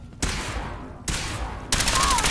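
Gunfire from the video game Fallout 4, three loud broadband bursts in quick succession, each sustained and dense like sustained automatic fire, up close with no pause between volleys.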